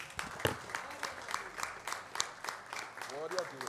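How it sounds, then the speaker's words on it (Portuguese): A congregation at a Portuguese-language church service applauds quietly. Scattered, irregular claps sit under a voice talking. "Vamos aplaudir ao Senhor?"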